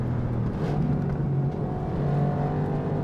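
Mercedes-AMG GT R Pro engine revving under acceleration while driving, a steady loud rumble from inside the car with rising and falling engine pitch, no talking.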